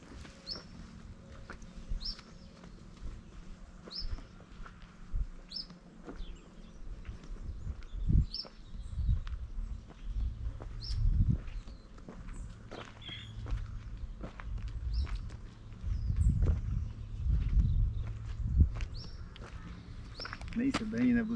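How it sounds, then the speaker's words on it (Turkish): Birds sing outdoors on rural farmland in Ortaca, with repeated short high chirps spaced every second or two over a low rumbling background and occasional thuds of footsteps. "Hem bu arada kuş seslerini de dinleyin"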